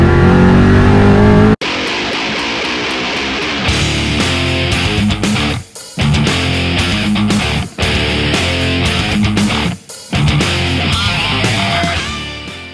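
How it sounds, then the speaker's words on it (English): Supercharged 800-horsepower 1992 Ford Mustang Foxbody with a Vortech YSi blower accelerating hard, a loud roaring engine that surges through several gear changes, with brief dips between pulls. "let's see what 800 horsepower really feels like."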